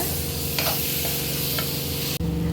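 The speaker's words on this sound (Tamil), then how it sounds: "அதை அரைச்சி வச்ச மசாலாவை சேர்த்துக்கோங்க. சேர்த்து நல்லா வதக்கி விட்டுடுங்க" Ground masala paste being sautéed in a pan for chicken gravy, with a steady close sizzle, occasional stirring scrapes and a brief break near the end.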